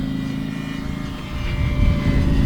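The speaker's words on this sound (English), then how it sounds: "Let's do a full throttle pass." An E-flite Commander mPd 1.4m brushless RC plane makes a full-throttle pass, its steady high-pitched electric motor and propeller whine building louder as it nears, alone without talk.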